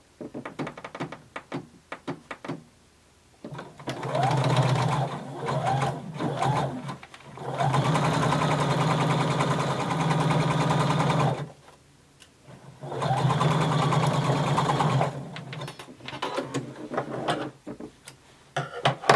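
Bursts of a sewing machine stitching denim side seams, several runs of rapid mechanical whirring separated by pauses with handling clicks and fabric rustle, close and loud.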